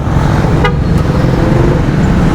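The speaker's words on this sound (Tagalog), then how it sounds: "ang daming stoplight kaya nagta-traffic lalo kasi daming stoplight dito ah" Midday road traffic congestion in Kamuning, Manila: a steady, loud wash of engine rumble and tyre noise from surrounding cars, with a brief horn toot early on.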